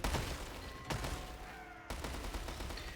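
Bursts of game gunfire crack repeatedly over a dense, noisy battle backdrop, several sharp volleys in quick succession.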